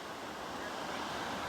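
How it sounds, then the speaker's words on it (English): Groundswell waves breaking along the ocean shore, a continuous soft wash of surf with some wind noise, moderately distant and fairly quiet. "look at that wave. Beautiful."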